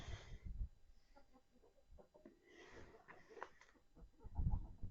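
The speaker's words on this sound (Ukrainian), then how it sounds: "Ось наші курочки." Laying hens in a winter coop cluck softly in short, scattered calls, with occasional low thumps and shuffling nearby, fairly faint overall.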